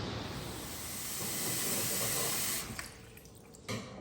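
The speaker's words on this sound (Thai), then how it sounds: "เดี๋ยวเรามาล้างใบบัวบกกันนะครับ" Tap water running steadily over gotu kola leaves being rinsed in a sink. The hissing flow is close and constant, then briefly broken by splashes and handling toward the end.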